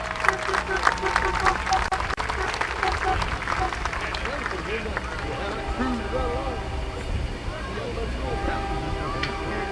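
A crowd at Columbus Motor Speedway applauds Speedo the Clown with steady, dense clapping and some cheering, loudest at first and then thinning, with speech over the top.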